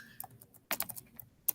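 Irregular clicks of keys being typed on a computer keyboard, close and fairly quiet, with a brief flurry of faster keystrokes in the middle.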